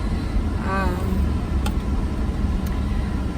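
A car drives along at steady speed, a continuous low road and engine rumble filling the whole stretch, with a brief faint tonal chirp near the start and a couple of soft clicks later.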